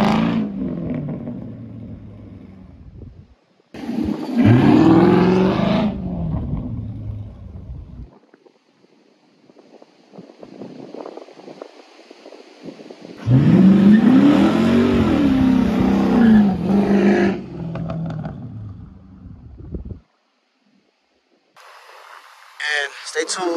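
A Dodge Charger Hemi launches hard from a standstill, its engine roaring loudly in two long surges separated by quieter stretches, heard close with some talk and faint background sound near the end.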